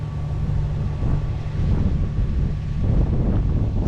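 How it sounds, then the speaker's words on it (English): Steady wind buffets the microphone aboard a sailboat in LA Harbor, a loud, rumbling low roar with slight gusty swells and faint water and hull noise beneath, no one speaking. "So we got a little bit of wind."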